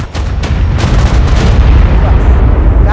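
Bombs explode in ARK Survival Evolved, a run of heavy booming blasts merging into a loud, sustained rumble that dominates the clip.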